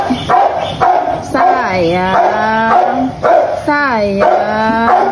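A dog barking and whining nearby in a few drawn-out, wavering yelps, while a person speaks softly between them.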